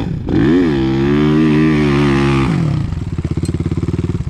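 Loud motorcycle engine held at high revs climbing a gravel pit slope, then dropping into a rapid rhythmic putter as the throttle eases, close and dominant.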